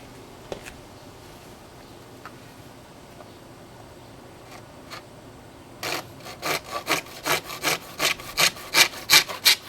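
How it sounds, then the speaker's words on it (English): A handsaw cuts a piece for a blueberry bird-netting frame: after a few faint knocks, a steady back-and-forth rasp of about a dozen rhythmic strokes builds loud and close, with no talking. "I got one final piece that I need to cut. I'll show you how I cut that."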